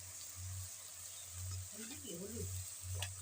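Ground chilli, cumin, coriander and turmeric fry in oil in a pan, giving a steady close sizzle under a periodic low hum, with faint speech partway through.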